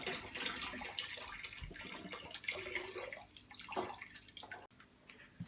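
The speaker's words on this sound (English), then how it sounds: "I am using water straight from the tap" Tap water pouring into an aquarium during a water change, a steady gurgling splash with bubbling and dripping, fairly quiet and continuous for several seconds.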